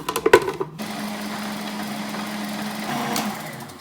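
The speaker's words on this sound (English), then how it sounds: "Now we're going to grind this up until it's the consistency we want." A blender grinds homemade pesto, starting with a few rattling chops of the ingredients before settling into a steady, loud whirring motor hum that runs evenly to the end.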